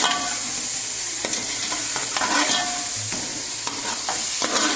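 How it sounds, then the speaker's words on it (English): Chopped tomatoes fry in a pan for chicken biryani, a constant close sizzle with repeated scraping stirs of a spoon against the pan. "I have added chopped tomatoes, right? And then I'm just frying it."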